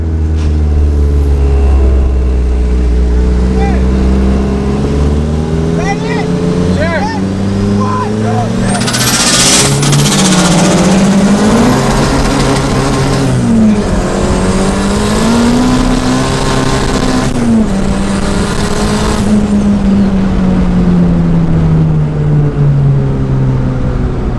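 A small-block Chevy V8 swapped into a Colorado pickup on big tires accelerates hard in first gear during a street pull, the engine climbing loudly through rising revs close by. Voices talk over the engine.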